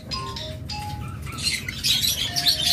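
A pair of yellow Fischer's lovebirds chirping nearby, a red-eyed male and black-eyed female, with short sharp tweets and clinks scattered irregularly over a noisy background, busier toward the end.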